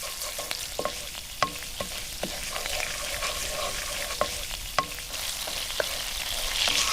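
Anchovies and garlic fry in oil in a pan, giving a soft, continuous sizzle close by, punctuated by a few sharp clicks and scrapes of a utensil stirring, with no talking.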